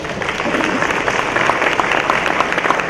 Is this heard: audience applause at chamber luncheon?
yes